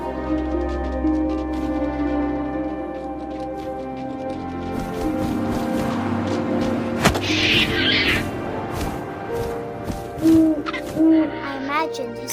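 An owl hoots repeatedly in the video game What Remains of Edith Finch, deep resonant calls over a layered ambient score with wind and occasional low thumps.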